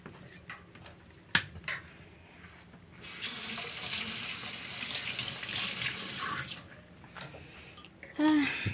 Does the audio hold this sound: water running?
yes